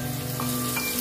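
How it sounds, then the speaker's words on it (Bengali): Capsicum frying in a pan gives a steady, close sizzle that runs for about a second, with no talking over it. "আমি ক্যাপসিকাম গুলো এরপরে ভাজতে শুরু"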